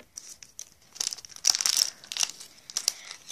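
Scissors cutting open a crinkly plastic package holding a Minecraft cave spider toy, close crackling and rustling in short bursts, loudest in the middle.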